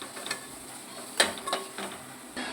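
Onions going into hot oil for a noodle breakfast dish, a faint crackling sizzle with a few sharp clicks and stirring taps.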